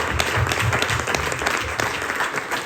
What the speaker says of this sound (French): Je pense qu'on peut l'applaudir pour son étang quand même